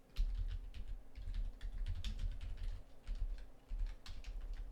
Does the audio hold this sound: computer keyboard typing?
yes